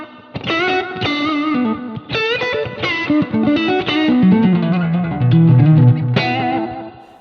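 Electric guitar played through an Amp 11 with a boost pedal and a touch of slapback echo, sounding loud and overdriven with chorus-like shimmer as sustained chords and a melodic line ring out, with no talking.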